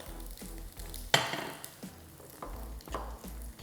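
Asian salmon salad dressed with toasted sesame oil being stirred and tossed in a bowl, soft wet mixing and scraping with one sharper clink of a utensil against the dish, close and quiet.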